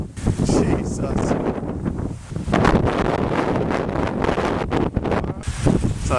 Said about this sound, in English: Windy day in Norway.